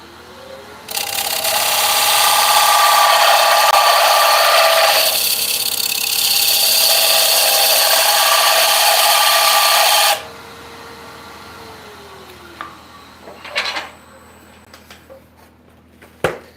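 A steady, loud whirring hiss of abrasive sanding against spinning mahogany on a lathe for several seconds, then it cuts off, leaving faint clicks and knocks.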